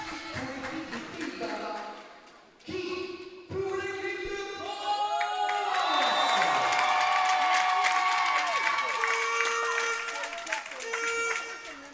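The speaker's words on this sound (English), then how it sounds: "The audience cheering the French." Audience at a Netherlands versus France volleyball match cheering for the French side, the crowd noise dipping briefly before swelling into loud, sustained cheering with horns and shouts.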